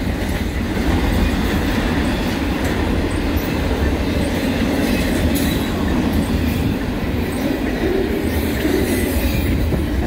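A CN intermodal freight train heading eastbound from Toronto to Halifax rumbles past close by, with a continuous heavy roar of wheels and cars and faint squeals, staying loud and steady the whole time.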